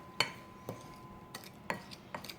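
Spoon clinks against a bowl while sugar and cinnamon are stirred together, four or five light, separate taps spaced across a quiet background.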